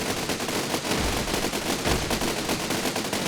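Cannons in the siege-building game Besiege fire in a dense, continuous barrage of overlapping blasts and cracks, loud and unbroken for the whole stretch.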